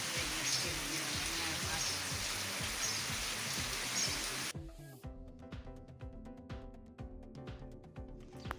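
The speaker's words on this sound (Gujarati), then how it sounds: "વરસાદ તો જુઓ ધીમો ધીમો ચાલુ જ છે" Dense, steady hiss of light rain in the Gir region of Gujarat for several seconds, then a quieter patter of drips and scattered drops with a faint hum underneath.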